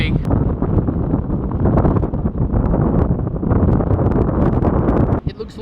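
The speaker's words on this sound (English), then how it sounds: "It's very windy" Strong wind buffets the microphone in open country along an old railway line in the Southern Mallee, a loud, continuous roaring rumble with gusty swells, easing briefly near the end.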